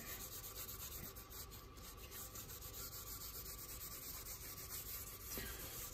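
Cloth rubbing and wiping drips of midnight blue stain off a paulownia guitar body, a steady close scrubbing texture running throughout without pause.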